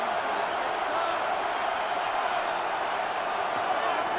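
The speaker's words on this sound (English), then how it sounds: "This crowd doing all they can." A stadium crowd in the video game Madden NFL 26 roars in a steady, dense wash of cheering during a Cardinals vs. Saints rivalry game, loud and continuous, with a commentator's voice faintly underneath.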